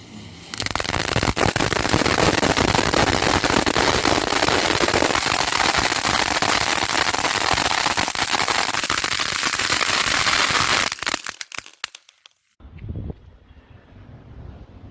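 Diwali firecrackers go off in a dense, continuous barrage of crackling bursts and pops for about eleven seconds, loud and close, then cut out abruptly into quieter outdoor rumble with a few faint trailing sounds.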